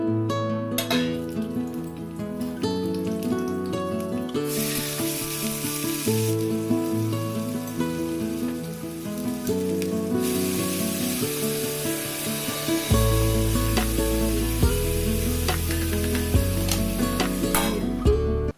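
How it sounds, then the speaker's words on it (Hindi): Vegetables sizzle and crackle as they are tempered in hot oil with garlic, a steady hiss rising and falling with occasional scraping and stirring sounds, close by and without talk. "घर आने के बाद सबसे पहले तो सब्जी छौंक दी है"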